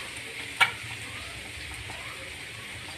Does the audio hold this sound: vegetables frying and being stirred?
yes